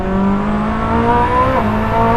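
A Koenigsegg Jesko hypercar accelerating hard on a test track, its engine note loud and close, climbing steadily in pitch, with a quick gear shift near the end before the revs rise again.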